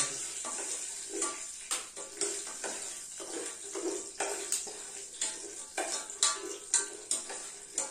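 Peanuts and chillies being fried in oil for khichdi, with repeated stirring and scraping in the pan and soft clinks of a utensil over a faint steady sizzle.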